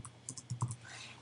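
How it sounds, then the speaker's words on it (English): Quick, quiet keystrokes on a computer keyboard while typing a note in Microsoft Word 2011 on a Mac, a short irregular run of soft clicks heard up close with no talking. "let's say I'm typing something"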